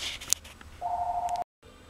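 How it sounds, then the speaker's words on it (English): A single steady telephone tone from an incoming call sounds for about half a second in a workshop, preceded by a sharp click and followed by a brief dropout to silence. "Hey, that may be Luciano on the phone right now"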